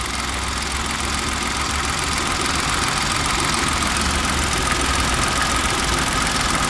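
A car engine runs at a steady idle with a persistent metallic rattle riding over the low hum, close and loud with no talking.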